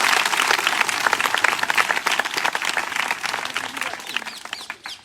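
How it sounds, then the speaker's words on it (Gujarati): Students and guests at a school event held by a charitable foundation burst into loud, dense clapping for a volunteer, sustained applause that thins slightly near the end. "ભાઈ એમના માટે પહેલાં તો જોરદાર તાળી પાડવી જોઈએ"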